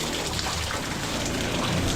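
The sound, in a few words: heavy rain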